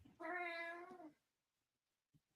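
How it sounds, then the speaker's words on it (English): A single clear, drawn-out cat meow, close and moderately loud, followed by near silence and a faint brief tap. "there's the cat"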